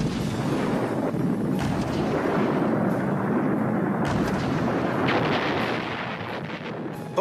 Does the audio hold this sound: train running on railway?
no